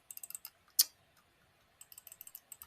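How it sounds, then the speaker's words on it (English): A Logitech computer mouse clicks rapidly in quick bursts, with one sharper, louder click in the middle, all close and crisp against a quiet room with no talking. "I just love the click noise of my mouse"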